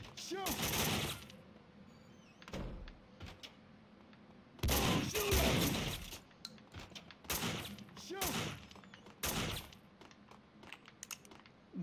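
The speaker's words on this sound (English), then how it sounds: "That almost seemed like I was being shot from behind." Gunfire in the Max Payne 2 video game erupts in several loud, rapid bursts separated by brief quieter gaps, with a voice speaking faintly between the volleys.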